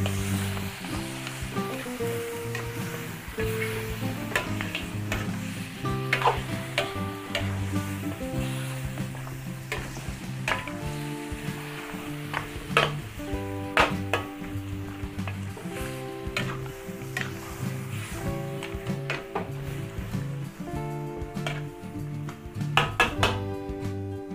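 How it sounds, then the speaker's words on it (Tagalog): Food frying in a pan sizzles steadily while being stirred, with scraping and clinking of the utensil against the pan and a sustained tonal backdrop throughout. "Haluin lang po natin ding mabuti."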